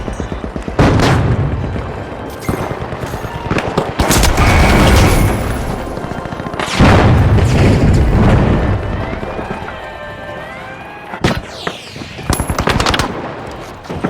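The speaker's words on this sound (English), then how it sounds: "Using a flashbang." Repeated flashbang explosions and heavy automatic gunfire in the destructible-arena shooter game The Finals, loud and close, with bursts of rapid fire separated by short gaps and booming blasts.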